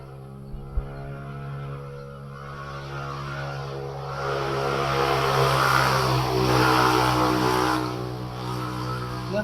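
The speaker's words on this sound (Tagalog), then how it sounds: "medyo maingay yung motor dito" A motorcycle engine idles nearby with a steady harmonic drone, then swells louder in the middle as it revs before settling back, with no talking over it.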